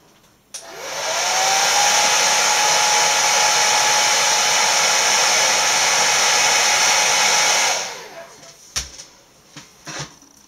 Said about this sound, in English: I'm just going to put my hairdryer on for a wee sec